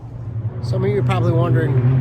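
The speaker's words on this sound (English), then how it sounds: "You can hear the cars in the background" Traffic hums steadily outdoors on a windy, cold day in Pennsylvania, a low continuous rumble of cars passing in the background beneath someone speaking close to the microphone.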